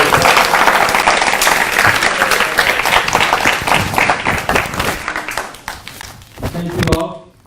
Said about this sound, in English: A big round of applause for our beautiful next generation.